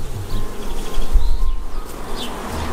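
Honey bees buzz at a hive at a German beekeeping site, a loud, dense, continuous drone close to the listener with a few higher whines of individual bees passing through.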